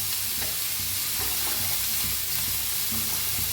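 Cooked drumstick vegetable sizzles in a pan as it is stirred, a dense, even frying hiss filling the whole stretch with soft intermittent scrapes from the spoon and no speech.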